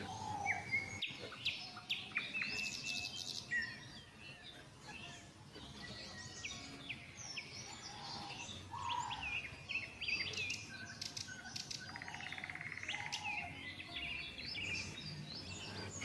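A forest at sunset holds a busy chorus of birdsong, overlapping chirps and trilled phrases that carry on continuously at moderate loudness, with no voices.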